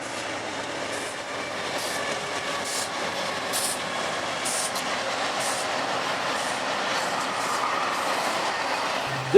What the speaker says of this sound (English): Shortly after I arrived came a hot northbound Z train,